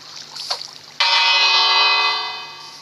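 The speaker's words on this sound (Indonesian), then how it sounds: "Suara bel." A bell in the video game Minecraft strikes once, loud and sudden, then rings with a long fading tone after some quieter splashy game sounds.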